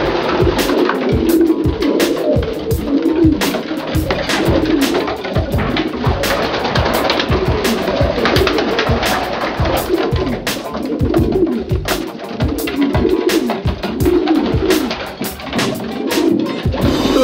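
A loft section holding about 40 racing pigeons fills with dense, loud, overlapping cooing, a continuous throbbing chorus close by with scattered sharp taps and flutters.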